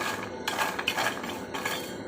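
Cocoa beans frying and drying in a pan, giving dry rattling clinks and scraping as they are turned, in uneven bursts at close range with no talking.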